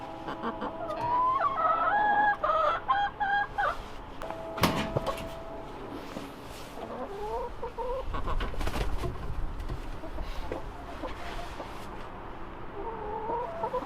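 Backyard chickens clucking inside a coop, with repeated close, rhythmic clucks and short calls over several seconds, broken by a loud wooden knock or door-like thud partway through.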